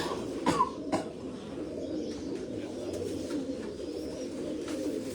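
Golden pigeon cooing on a rooftop loft, a low steady murmur of coos with a few brief sharper sounds near the start, moderately close and continuous.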